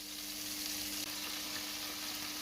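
Burger patties frying in a pan, a steady close sizzle with constant crackle and a faint low hum underneath, no talking.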